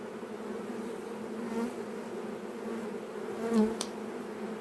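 A dense, steady buzz of many bees swarming close by, continuous throughout, with a brief louder swell near the end.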